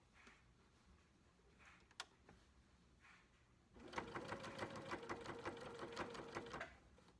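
A sewing machine stitching a witch-legs pillow cover, with faint handling noises and clicks at first, then a close, steady rapid stitching run lasting a few seconds before it stops.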